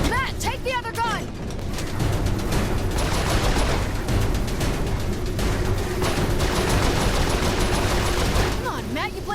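Rapid turret gunfire rattles continuously in Saints Row IV, a dense, loud burst of shots with chirpy whooshing effects at the start and end, and voices talk over the shooting.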